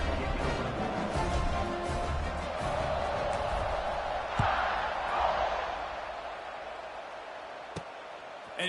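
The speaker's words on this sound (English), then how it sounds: "this crowd is buzzing after that last score" Stadium crowd in College Football 26 buzzes as a steady, distant roar of many voices, swelling slightly midway, under a broadcast-style mix with occasional sharp knocks.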